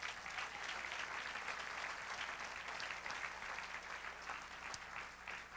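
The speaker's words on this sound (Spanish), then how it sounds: "Dale otro aplauso, se lo merece." A church congregation applauds during a sermon, a steady, dense wash of many hands clapping at moderate distance, sustained without a break.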